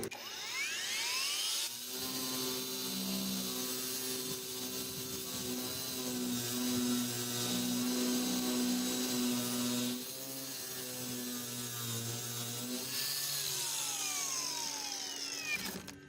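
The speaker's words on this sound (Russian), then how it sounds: "Итак, режим нормальной шлифовки. Поехали. На максимальных оборотах." A PATUOPRO angle grinder runs at maximum speed in grinding mode, making a loud, sustained motor whine with a steady tone. It rises and falls slightly, eases off briefly near the tenth second, then spins up again and fades at the end.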